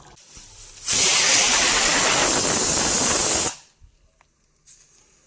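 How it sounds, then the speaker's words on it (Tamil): A pressure cooker whistle, cooking chicken curry, lets out a loud, sharp hiss of escaping steam lasting a few seconds, then cuts off abruptly into quiet. "குக்கர் விசில் வந்துருச்சு நான் ஆஃப் பண்ணிட்டேன்"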